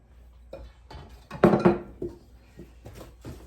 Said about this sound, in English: Turn your pan as you mix.